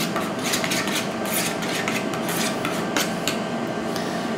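Sugar being mixed into chicken tikka marinade for an air fryer recipe, a steady close scraping and rubbing of utensil against bowl, continuous with no talk.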